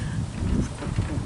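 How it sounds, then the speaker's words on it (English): Steady wind blowing outdoors, buffeting the microphone with a constant low roar and gusty fluctuations, no other distinct sounds. "It's windy."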